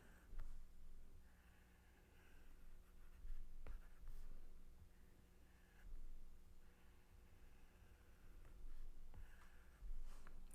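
A pen scratches across paper while sketching a quadratic graph, with short strokes and pauses in an irregular rhythm, close and fairly quiet, without speech.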